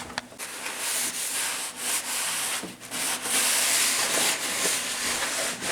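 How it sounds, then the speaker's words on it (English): Cloth rubbing over a cabinet surface while it is wiped down with acetone, a soft continuous scrubbing hiss with short strokes and pauses, close and fairly quiet. "for now, my wife is going to wipe it down with acetone"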